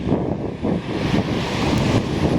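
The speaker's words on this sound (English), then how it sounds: "Even though it might be a little bit too much wind there." Steady wind buffets the microphone while someone walks outdoors along Notre-Dame Street near Highway 20 in Montreal in winter, a continuous low rumbling roar with gusty swells and no talk.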